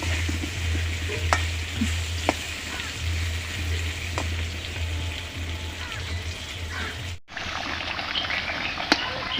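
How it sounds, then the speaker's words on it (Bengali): Marinated chicken sautéing in a pan with onion, ginger, cumin and garlic paste for a biryani, a steady close sizzle and bubbling with occasional utensil taps, cut briefly near the end before the frying resumes. "মশলা কষিয়ে চিকেন ম্যারিনেট করা চিকেনটা দিলাম। এবার একটু কষিয়ে নেব।"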